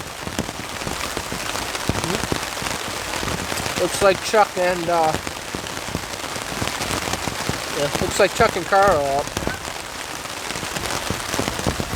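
Rain patters steadily onto a wilderness camp with hammocks in Canadian backcountry, a dense crackle of drops on nearby surfaces, while someone speaks briefly over it.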